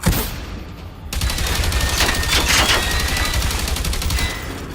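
Rapid bursts of automatic gunfire in the video game Generation Zero, a dense, continuous volley of shots after a quiet opening second, loud and sustained with no talk.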